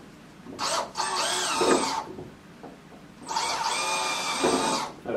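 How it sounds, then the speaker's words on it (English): A power drill with a hole saw cuts through material in two bursts of whining, grinding rotation, each lasting about two seconds with a brief pause between them, loud and close. "Now, we have the right hole saw to cut this one, so we're going to do the hole saw."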